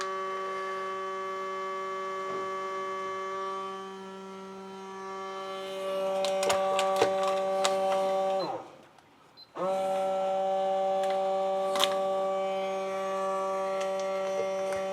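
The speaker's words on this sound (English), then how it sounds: "It's sucking all the air out of there." A vacuum sealer pumps air out of a bag of meat with a steady electric motor hum, stops briefly, then starts again, while a person talks nearby.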